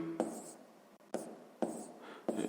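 Pen or pencil writing out a sixth-grade math percentage solution on paper, four bursts of scratchy strokes separated by brief pauses, close and fairly quiet.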